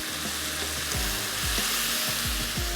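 Onion, tomato, red chili powder, salt and ground garam masala sizzling as they fry in a pan, a steady crackle with repeated stirring scrapes and knocks.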